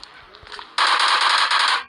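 Gunfire in the game IBD 3D erupts in a loud, rapid automatic burst after a moment of quieter sounds, then cuts off abruptly.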